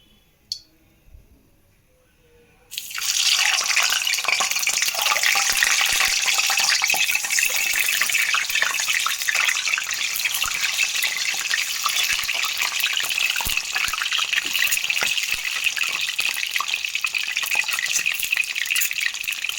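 Eggs fry in an oil-filled pan for Andhra egg pulusu curry. After a few quiet seconds with small clicks, a loud, steady sizzle bursts in and keeps going without a break.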